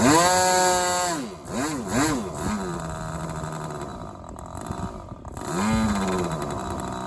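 Small model glow engine running on the bench with the throttle repeatedly opened and closed, a loud, buzzy, high-pitched whine that swoops up and down in pitch several times, close and alone without talk.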